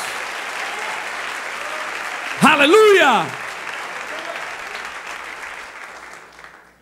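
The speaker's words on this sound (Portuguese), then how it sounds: "Dê uma salva de palmas bem forte para o nosso Deus." Church congregation applauding steadily throughout, with a voice calling out a brief exclamation over the clapping midway before the applause gradually fades.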